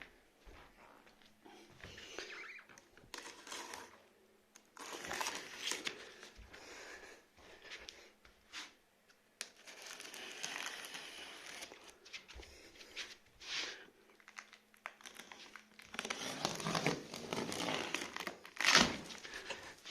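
A packaged Deye8 unit from an online store is being unboxed, with the box opened and foam padding inside. It produces intermittent bursts of crinkling and rustling packaging between quieter handling pauses.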